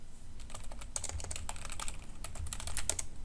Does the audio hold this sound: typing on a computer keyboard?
yes